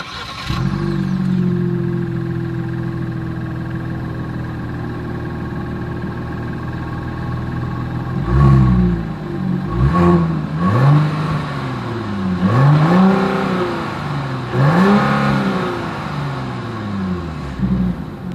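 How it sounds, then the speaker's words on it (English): Exhaust of a 2022 Genesis GV80 SUV, starting with a steady idle, then several sharp revs that rise and fall in quick succession, loud and close with no talking. "As always, here is that exhaust clip."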